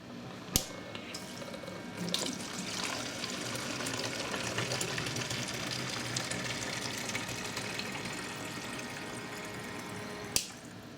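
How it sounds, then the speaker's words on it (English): A Miniwell water filter pump pushes a steady stream of water into a 1-quart container. The pouring hiss runs continuously at moderate level, with a sharp click near the start and another near the end. "Watch how quickly you can fill a 1-quart container with this pump."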